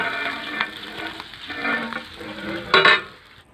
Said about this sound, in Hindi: अभी जर्दे पर भी ये घी डाल रहे हैं, पिघला हुआ घी।